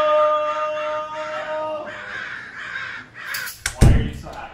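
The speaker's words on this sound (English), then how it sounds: "do you guys hear all those birds flying around outside the jail?" Crows caw outside a jail in a series of harsh calls that fade, followed by a loud thump or knock and voices.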